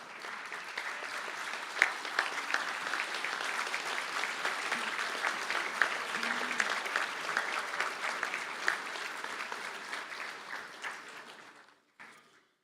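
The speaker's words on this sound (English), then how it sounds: "face your supporters, please, and give them a round of applause" Sustained applause from graduates at a university conferring ceremony in Galway, a dense, steady clatter of many hands filling a large hall for about eleven seconds before cutting off abruptly.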